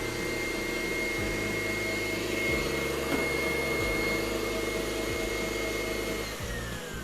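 An electric mixer whips eggs into a cream for tiramisu, a steady close motor whine with rhythmic drops in pitch as the load shifts, running alone without voices.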